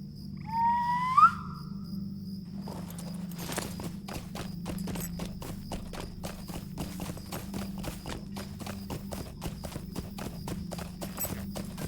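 A horse's hooves clip-clop at a steady trotting pace for many seconds in the video game Lord of the Rings Online, preceded by a brief whistle, over a faint low hum.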